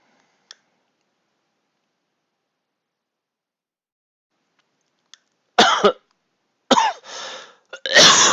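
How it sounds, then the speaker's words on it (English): A person coughs hard from an itchy throat while painting GodTear miniatures: after a long near-silence broken by faint clicks, several harsh, close coughs arrive in quick bursts near the end. "Sorry for all the coughing."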